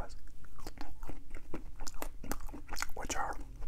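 Close-up ASMR eating of soft, non-crunchy french fries served alongside chili cheese dogs: moist bites and chewing clicks repeat steadily throughout, mixed with quiet talk.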